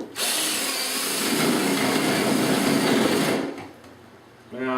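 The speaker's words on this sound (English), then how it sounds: "Got my drill with a 1-inch spade bit." A power drill with a 1-inch spade bit bores through the foam wing of a crashed EA model plane, a loud steady whine and grinding that runs without pause for over three seconds, then drops away to quiet with a brief burst near the end.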